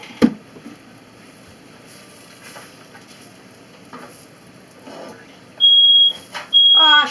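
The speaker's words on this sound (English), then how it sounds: "Don't set off your smoke detector." A smoke detector goes off in a kitchen while ham and cheese tortillas grill on a hot pan, sounding two loud, sustained high-pitched beeps near the end after quieter clatter.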